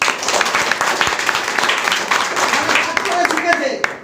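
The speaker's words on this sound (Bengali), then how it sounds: "হাততালি ওখানের জন্য।" An audience claps in a sustained round of applause, with a voice talking over the clapping throughout.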